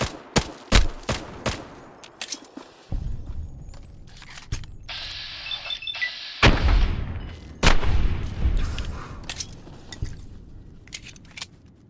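Gunfire in the video game Fallout New Vegas: sharp, loud shots fired singly and in quick runs, with a burst of mechanical whirring in the middle and thuds between, no talking.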